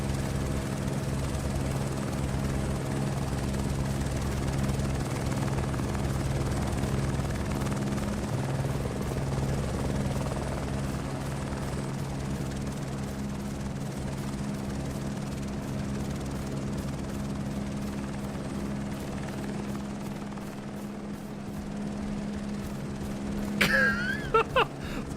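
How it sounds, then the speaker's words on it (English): Helicopter in the Microsoft Flight Simulator 2024 video game: a steady, loud rotor and engine drone holding for the whole stretch, with a brief burst of higher noise near the end. "I didn't mean to get back in the helicopter"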